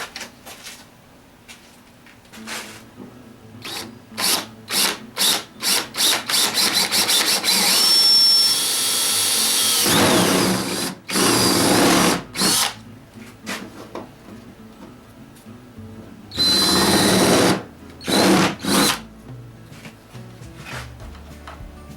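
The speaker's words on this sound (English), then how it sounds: "let me check this drill bit out and see if this is going to do it." Loud power drill whirring in repeated bursts, some short and some sustained for several seconds, close up with pauses in between.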